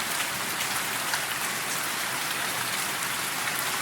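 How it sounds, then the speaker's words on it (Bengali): Heavy downpour in Kolkata during a thunderstorm, a steady, loud hiss of rain drumming on surfaces that fills the whole span; no distinct thunder crack stands out and nobody speaks. "খুব বৃষ্টি হচ্ছে আজকে কলকাতাতে, সেই পরিমাণে মেঘের গর্জন শোনা যাচ্ছে।"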